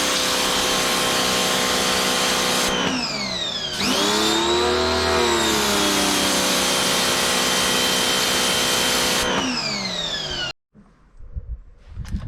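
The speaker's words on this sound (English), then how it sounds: "that is how you can make this become a portable pressure washer" A Lidl Parkside portable pressure washer runs with a loud, steady motor whine and spraying hiss, its pitch dipping and recovering under load, then cutting off abruptly near the end, leaving faint clatter.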